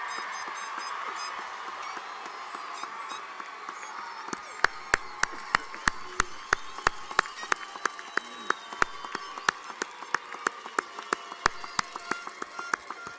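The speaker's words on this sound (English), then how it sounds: "Please give them a round of applause." Audience members clap at a college commencement ceremony. It starts quiet, then fills with a growing patter of sharp individual claps that stays moderate and slightly distant.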